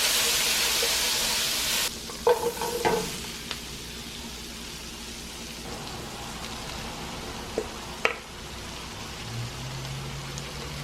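Onions and peppers for fajitas, with a splash of hot sauce, sizzle in a hot pan: a loud hiss at first that drops to a softer crackle, broken by a few utensil clinks, close up and without speech.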